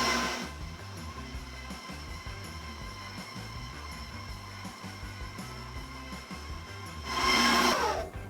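A KitchenAid stand mixer creams butter and sugar for a plum torte, a steady motor whir with a rhythmic churning beat, rising louder near the end, with no talk.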